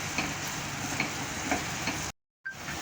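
Paneer bhurji sizzles gently in a pan on low gas while being stirred and sautéed, a soft continuous frying hiss with occasional spoon taps, briefly cutting out near the end.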